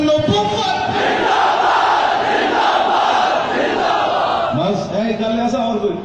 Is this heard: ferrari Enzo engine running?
no